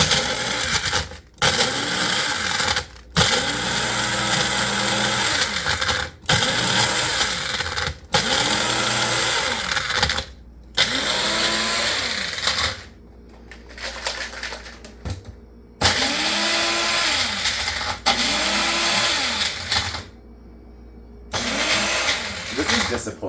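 A Magic Bullet blender crushes ice in repeated short pulses, each burst a loud grinding whir with rattling ice, separated by brief silent gaps in an uneven rhythm.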